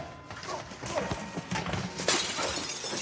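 Glass shattering in a deli during a film scene from The Irishman, a broad crashing burst with scattered clinks over busy background noise, swelling again near the end.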